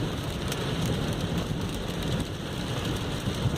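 Rain heard from inside a taxi while driving, a steady dense patter on the car with a low rumbling road noise underneath, constant throughout.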